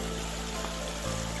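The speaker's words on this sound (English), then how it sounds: "here's a shot of the creek." Small creek flowing in a wooded hollow, a steady soft trickle and rush of water running continuously, close and unbroken, with no voices.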